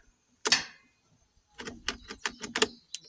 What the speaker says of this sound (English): you can hear the shut off solenoid clicking on and off.